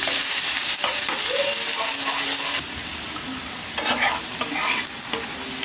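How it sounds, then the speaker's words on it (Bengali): Chopped garlic and onion fry in hot soybean oil, a bright continuous sizzle with scraping stirs over it; the frying eases slightly halfway through but keeps hissing steadily to the end. "রসুন কুচি, পেঁয়াজ কুচি ভালো করে ভেজে নিব।"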